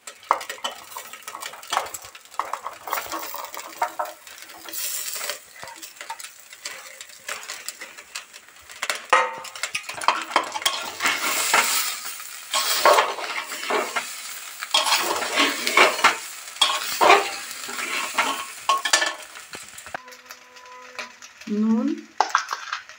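Vegetables for khichuri fry and sizzle in a pan while a utensil stirs and scrapes repeatedly against the metal, with clinks throughout; a brief voice is heard near the end.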